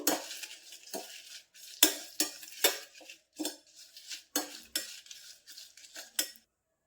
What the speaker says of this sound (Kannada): ಒಣಮೆಣಸಿನ್ಕಾಯಿನ ಹಾಕೋತಾ ಇದ್ದೀನಿ ಇದಿಷ್ಟನ್ನ ಹುರ್ಕೊಳ್ಳೋಣ